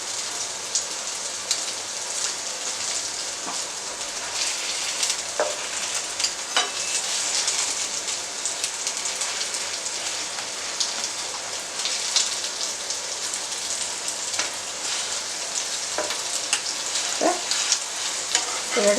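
Pita bread puffs up in a hot pan as a shawarma meal is prepared. A continuous, fairly quiet crackling sizzle runs throughout, with scattered sharper pops and ticks.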